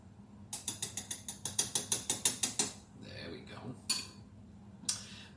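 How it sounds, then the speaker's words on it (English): A spoon scrapes and knocks rhythmically against a pot while overnight oats are stirred, about a dozen quick clinking strokes, then a few slower scrapes and a final clink. "We are going to stir really, really, really well"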